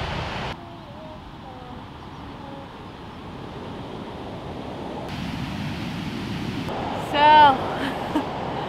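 Steady broadband rush of surf washing onto the beach at São Martinho do Porto, Portugal, with wind buffeting the microphone and a brief louder swell near the end.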